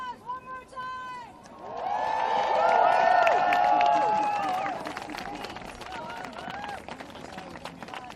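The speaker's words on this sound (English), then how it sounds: "Give a round of applause one more time!" A crowd at an anti-Trump rally in Berlin breaks into loud cheering, whistling and applause that swells to a peak for a few seconds, then eases into scattered clapping and chatter, with shouted voices over the top.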